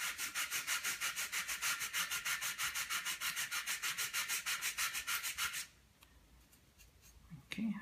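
Sandpaper is rubbed back and forth by hand in a quick, even rhythm of close, scratchy strokes for about five seconds, then stops, leaving faint handling noises.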